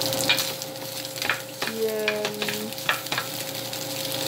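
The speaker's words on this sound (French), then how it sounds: "je suis en train de faire cuire du tofu" Tofu fries in a pan with a steady crackling sizzle, close and moderately loud, broken by occasional scrapes and taps of a utensil stirring it, with no talking.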